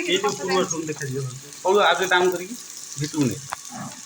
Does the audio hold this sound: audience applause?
no